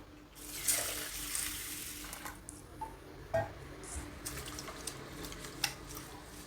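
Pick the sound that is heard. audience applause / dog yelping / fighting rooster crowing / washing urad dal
washing urad dal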